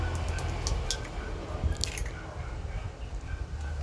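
Mashed sardines and two eggs being stirred together in a bowl, giving soft, wet squishing and sticky smacking sounds that run steadily with small clicks throughout.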